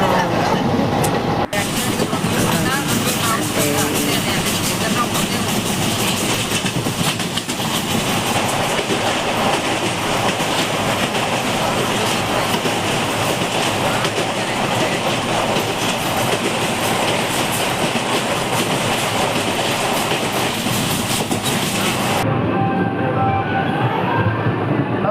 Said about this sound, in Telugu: गाड़ी संख्या 17645 सिकंदराबाद रेपल्ले एक्सप्रेस प्लेटफॉर्म क्रमांक 5 पर